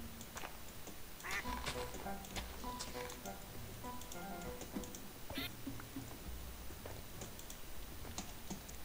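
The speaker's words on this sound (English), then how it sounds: "Is that a duck, or is that two ducks?" Ducks quack faintly in a cluttered room, a few scattered calls mixed with keyboard typing and clicking while a person is present, all at low level.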